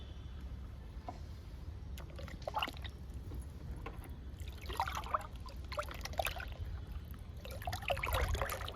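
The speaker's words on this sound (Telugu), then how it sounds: "కిచెన్ వేస్ట్ లిక్విడ్ ఈ 10 లీటర్లు మొక్కలకి ఇచ్చేద్దాము." Ten liters of liquid kitchen-waste fertilizer are poured onto fruit, moringa and curry leaf plants, a close, steady trickle and splash that grows louder and more broken in the second half, heard alone.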